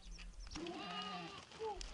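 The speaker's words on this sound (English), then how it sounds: "a herd of several dozen goats, sheep, and yaks are their livelihood" Herd of goats and sheep at a Mongolian herders' tent compound, a few close bleats rising and falling in short wavering calls over quiet outdoor ambience.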